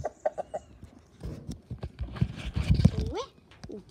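Chicken clucking in a dinosaur video game, a few short clucks near the start, then a player talking over game sounds.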